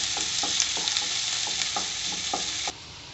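Steady loud sizzle of ingredients frying golden brown in a pan for a soya chunk (meal maker) gravy, with regular scraping strokes of a spoon stirring through it, ending abruptly near the end.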